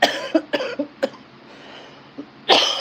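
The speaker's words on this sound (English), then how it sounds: "Oh my God, I haven't coughed all day till right now." A loud, close burst of coughing opens with several quick coughs in a row, then a pause, a small throat sound and one more hard cough at the end, with no speech.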